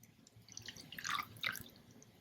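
Distilled water pours from a measuring vessel into a lab beaker, giving faint trickling and splashing that swells briefly in the middle. The sound is quiet and close, with no voices.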